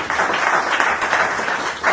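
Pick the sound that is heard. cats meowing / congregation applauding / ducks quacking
congregation applauding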